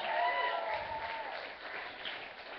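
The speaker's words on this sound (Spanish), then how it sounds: "denle un aplauso fuerte al Señor" Applause fills a church gathering opening a children's vacation Bible school, a steady wash of many hands clapping together, loud and continuous throughout with faint voices mixed into the crowd.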